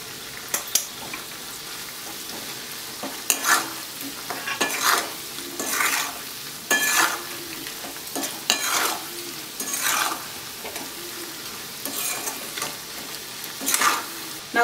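Amla gooseberries cook in oil with salt for a pickle, a sizzling bed of hot oil punctuated by repeated bursts of stirring and scraping in the pan, roughly every second or two.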